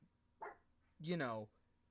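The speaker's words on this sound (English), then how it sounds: "Dog again, being very indecisive as to whether she wants to be upstairs or downstairs." A dog barks indoors in a house, two short yelping barks with the second longer and more tonal, fairly close and clear against a quiet room.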